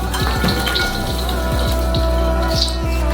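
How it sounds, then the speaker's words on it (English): Popcorn poured into a bowl in a home kitchen, a dense rattling patter of kernels with scattered sharper taps, loud and close throughout. "Pour our popcorn into another bowl."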